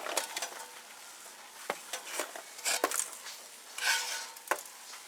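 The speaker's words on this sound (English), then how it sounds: "you want to get these nuts out of this pan" Candied cinnamon vanilla pecans scraped out of a pan onto a cookie sheet lined with non-stick aluminum foil, heard as scattered scrapes and clattering taps of nuts against metal, fairly quiet and irregular, with no talking.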